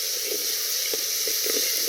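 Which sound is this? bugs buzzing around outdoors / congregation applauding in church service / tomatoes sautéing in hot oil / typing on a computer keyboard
tomatoes sautéing in hot oil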